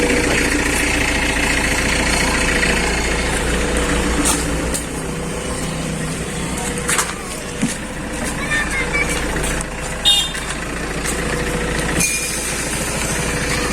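Tata Safari Dicor diesel engine idling with a rattling noise from the front grille, a steady close clatter and hum with occasional knocks, while someone talks over it.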